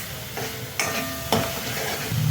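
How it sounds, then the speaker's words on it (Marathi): Masala for a spicy potato rassa bhaji being stirred and sautéed in a pan with a splash of water: a soft steady sizzle broken by three distinct scraping strokes of the spoon. "परत मिक्स करायचं आणि मसाला आपला छान परतला गेला पाहिजे"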